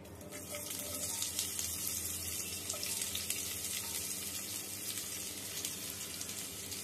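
Long sliced onion sizzles in a pan with cinnamon and cloves, a steady soft hiss of frying at moderate level with no talking.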